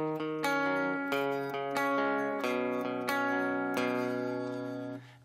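Guitar playing a chord progression with a walking pattern, strummed chords ringing clearly with moving bass notes between them, close and steady, then letting the last chord fade.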